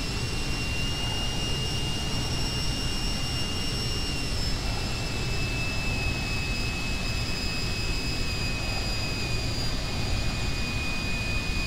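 An Epic Victory light jet in a flight simulator game taxis toward the runway, its turbine giving a loud, steady whine with high tonal lines over a constant low rumble, alone throughout.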